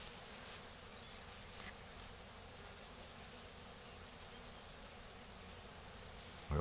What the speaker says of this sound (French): je vous fais déjà des belles images de l'essaim